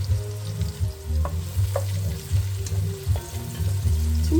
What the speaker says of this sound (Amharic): ከዛይቱ ጋር ነው እየጠበስኩ ያለሁት።